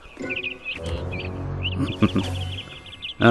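A cartoon bird chirps in quick, bright twittering runs, close and fairly loud, mixed with other cartoon sounds and short vocal noises.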